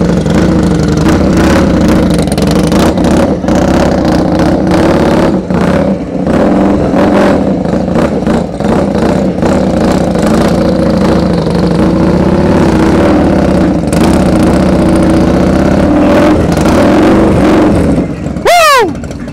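A 2022 Harley CVO Road Glide Limited motorcycle engine rumbles loud and close, throttle blipped repeatedly in uneven surges at a Daytona bike week event, with voices talking over it and a sharp rising whine near the end.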